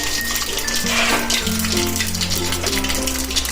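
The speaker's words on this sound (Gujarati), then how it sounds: "તો મેં અહીંયા વઘાર મૂકી દીધો છે" Mustard seeds and two dried red chillies go into hot oil as a tempering for cheese dhokla, giving a steady, close sizzle that runs through the whole stretch with some faint tonal sound underneath.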